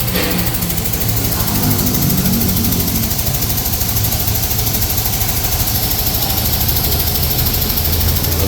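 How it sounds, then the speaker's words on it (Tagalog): A loud Isuzu Novo engine runs steadily nearby, a constant rumbling drone with a faint rattling vibration throughout. "Ito makina ng Novo, kargado, punong-puno."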